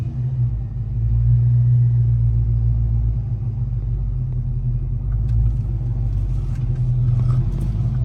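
A 1989 Ford Mustang GT Fox body with its 5.0 V8 rumbles steadily from inside the car on a test drive, a deep low drone with mild swells of throttle and no talking.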